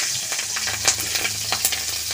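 Vegetables such as potatoes and radish frying in a pan with chillies, bay leaf and five-spice, a continuous close hiss with soft stirring scrapes over a brief stretch.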